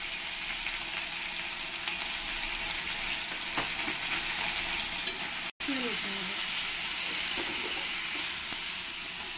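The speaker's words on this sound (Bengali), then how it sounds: "এরপরে কাঁচা লঙ্কা আর আদা পেস্টটা দিয়ে দেবো। রসুন বাটা দিয়ে দেবো।" Green chili, ginger paste and garlic paste fry in hot oil with a steady, close sizzle and stirring scrapes, the hiss briefly dropping out midway before resuming.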